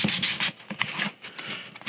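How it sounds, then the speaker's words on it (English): A 100 grit sanding stick rubs back and forth across a sculpture, close raspy strokes in an uneven rhythm of about eight passes, with no voice. "I'm just gonna use a 100 grit sanding stick here."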